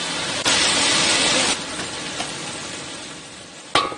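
Aromatics with hot pot base and a little doubanjiang stir-fried over low heat for a Sichuan mao xue wang, giving a steady close sizzle with brief scraping bursts at the start, middle and end, and no talk.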